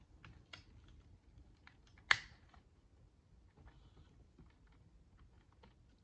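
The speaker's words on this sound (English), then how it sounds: "click the two halves together" Two halves of a plastic Transformers Legacy Motormaster toy figure snap together in a single sharp click in an otherwise quiet room, with a few faint handling ticks before and after.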